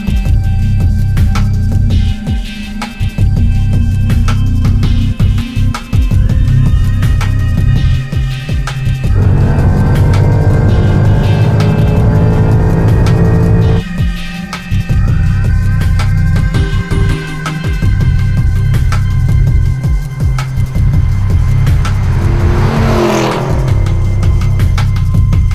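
A Mercedes-Benz E63 AMG's 6.2-litre V8 runs with a deep, steady rumble, swelling into a couple of revving surges midway before settling back to a throbbing idle, loud and close, with no talk.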